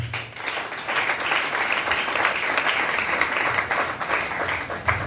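A church congregation applauds in praise during a French-language sermon, sustained crowd clapping that stays dense and fairly loud from start to finish with no voices over it.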